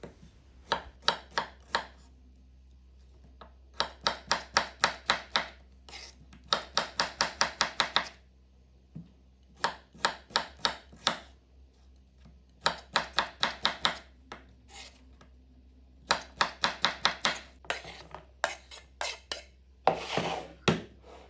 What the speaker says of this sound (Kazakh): енді огурцыйымызды осындай бөліктерге бөлеміз. Соломка етіп турап аламыз